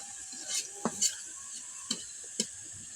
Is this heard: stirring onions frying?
yes